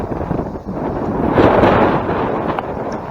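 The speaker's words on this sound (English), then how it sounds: "so there will be a lot of sound of wind in the video as well" Strong wind buffets the microphone on the Stenner Creek hiking trail near San Luis Obispo, a loud continuous roar that swells in the middle and stays steady throughout, with no voices.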